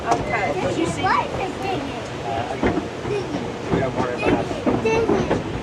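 A train rolls past on a holiday in Wales with rhythmic rail clatter and rumble beneath people chatting nearby, voices overlapping the passing cars throughout.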